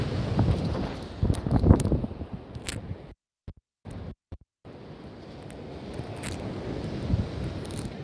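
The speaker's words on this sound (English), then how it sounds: "right now there's about a 7-mile-an-hour wind coming out of the southeast" Outdoor wind of about seven miles an hour from the southeast buffets the microphone with a steady rumbling roar, briefly cut to silence midway before resuming, with no voices.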